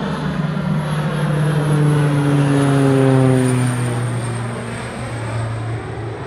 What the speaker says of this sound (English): So every year they come down and they do crop dusting down here.